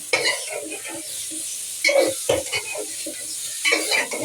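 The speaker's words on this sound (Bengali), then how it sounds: "এখন বেগুন আলুটা দিয়ে দিব যে বেগুন আলু ভালো করে কষিয়ে নেব" Eggplant and potatoes sizzle in hot spiced oil while being stirred, with repeated scraping and clinking of a utensil against the pan in irregular bursts over a steady frying hiss.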